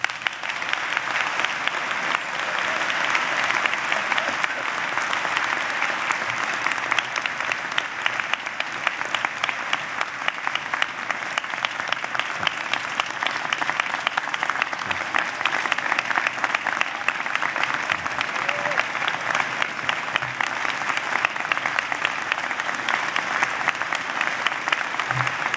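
Sustained, dense applause from a large audience fills the hall at the American University Washington College of Law 2016 commencement ceremony, steady and loud throughout with no break.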